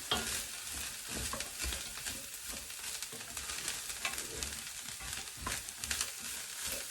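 Frozen vegetarian mince frying and being stirred in a pan, a steady close sizzle with scraping and stirring scuffs throughout, quiet overall and without talk.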